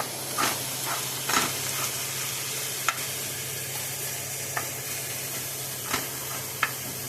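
Organic hamburger meat frying in a pan gives a steady, close sizzle and hiss, with a few sharp scraping clicks from chopping and stirring scattered throughout.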